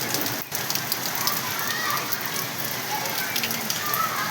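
Heavy rain at night in Sarkhej, Ahmedabad, falls as a dense, continuous roar of drops on surfaces, close by and steady throughout.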